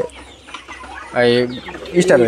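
Black Australorp chickens on a poultry farm cluck and squawk nearby in short bursts, with a brief louder call near the end and faint voices around them.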